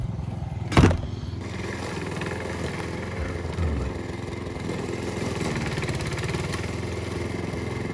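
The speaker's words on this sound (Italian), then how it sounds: "accendere il tagliaerba portatile per tagliarsi l'erba davanti" A portable lawn mower running near a camper in Slovakia, a steady mid-pitched engine drone with a sharp thump near the start and a brief louder surge partway through.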